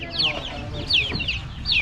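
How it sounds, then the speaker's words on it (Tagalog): Several chickens cluck and chirp close by, sharp repeated calls over a steady background hum. "nandyan na rin yung mga manok natin"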